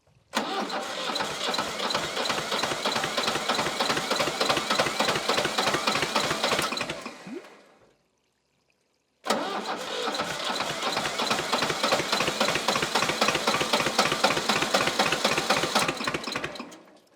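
An old Shibaura tractor engine held at full throttle gives a loud, steady, rapid mechanical drone, cutting out for about two seconds midway before roaring back at the same even pace.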